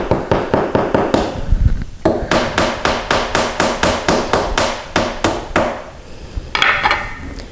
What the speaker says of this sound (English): we're just going to tap the bottom piece in until it's flush